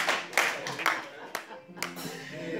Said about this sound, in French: Je voudrais qu'on acclame.